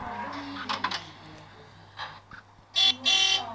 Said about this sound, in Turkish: güzelmiş korna